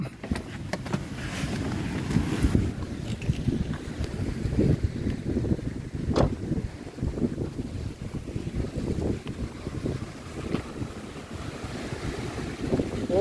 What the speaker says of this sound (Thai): ลมแรงมากเลยเนาะครับ